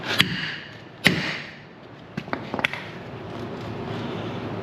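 Two loud metallic hammer strikes on an Eaton 402 front differential of a Peterbilt 359 ring out about a second apart, followed by a cluster of quicker, lighter clinks close by.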